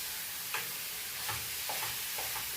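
Curry leaves are mixed through a biryani pot, producing quiet, repeated scraping stirs over a low sizzle, close but faint and without voices.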